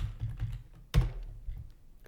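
Keys clatter on a computer keyboard while Java print statements are typed, a soft run of close taps with one sharper, louder keystroke near the middle, no voices.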